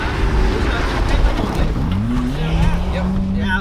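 Mitsubishi Lancer two-wheel-drive rally car on a stage, engine loud and close as it slows into a handbrake left turn, revs dropping then climbing again in a rising whine, with a voice talking over it.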